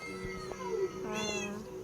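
A Minecraft cat meows in-game, a few clear, close tonal mews over a steady background hum, with no talking.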